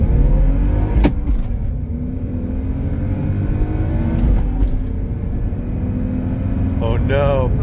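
At a drift event a car revs and accelerates loudly nearby, its engine note climbing in rising sweeps with sharp bursts, while people talk over it.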